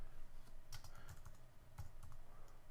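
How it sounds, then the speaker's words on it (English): Keys clatter on a computer keyboard in quick, uneven bursts of close taps over a faint steady background hum, with no voices. "We'll type it in."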